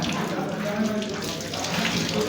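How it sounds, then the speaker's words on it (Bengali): Hands are washed under a running tap at a dining area during an engineering conference meal, a steady close rush of water splashing with faint background chatter. "এখন আমরা হাত ধোয়ার কার্যক্রম চলতেছে"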